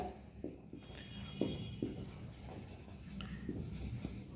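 Pen writing out a maths solution on paper or board for a Class 10 circles exercise, giving soft, faint scratching strokes in short irregular bursts, close and quiet with no talk.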